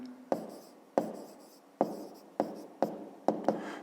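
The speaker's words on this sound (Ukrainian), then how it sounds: "пишемо тоді відповідь" A pen writes a math answer by hand on paper in a quiet room, making six crisp taps spaced about half a second apart, each followed by a short scratching stroke, close and soft.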